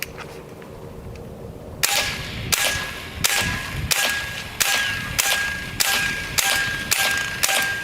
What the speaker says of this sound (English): Put it in the gun. Shoot it.